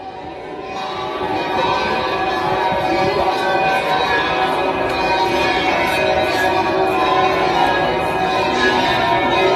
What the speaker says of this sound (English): Canadian church blasted Muslim prayers with church bells